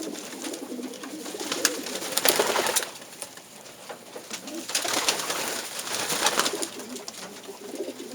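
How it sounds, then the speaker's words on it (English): Pigeons coo in a loft, soft throaty calls swelling in two rolling waves with small rustles and flutters between, close and unaccompanied by voices. "I don't have a single bird here that's not a nice pigeon."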